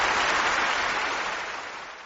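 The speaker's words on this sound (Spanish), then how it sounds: "Esos aplausos no son de Paul Robeson, sino nada menos que del Carnegie Hall." Applause from a Carnegie Hall audience on a recording of Paul Robeson performing Shakespeare: dense, steady clapping from a large crowd that slowly fades over two seconds.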